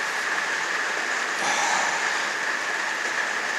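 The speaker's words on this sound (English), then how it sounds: "I wish that rain would stop." Steady rain falls outside a woodworking shop, a faint, even hiss that holds without a break, heard at a distance and alone, with no voices.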